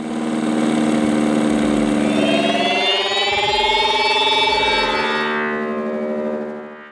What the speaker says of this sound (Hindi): एग्जॉस्ट आपको स्ट्रेट 2 स्ट्रोक स्कूटर्स के जमाने में ले जाता है